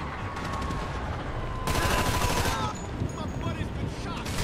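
Rapid bursts of gunfire in GTA V ring out through the first seconds, swelling into a louder dense volley mid-clip, with game voices and street ambience underneath.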